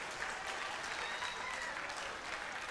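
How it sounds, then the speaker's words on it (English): Steady applause from a crowd at a middle school 8th grade celebration, many hands clapping at once in a continuous, moderately distant wash of sound. "Let's have a final round of applause"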